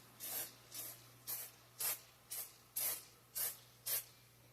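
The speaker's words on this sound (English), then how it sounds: "Okay, we're going to take some cooking oil." Eight short, evenly spaced hisses of cooking oil sprayed from a can onto tater tots before air frying, each burst close and crisp with brief pauses between, no talking.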